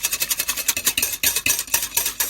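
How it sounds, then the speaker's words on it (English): A whisk beats batter in a bowl with quick, even rhythmic strokes, each a bright clinking scrape, repeated steadily and close up without talk. "Just whisk it until there are 0 lumps."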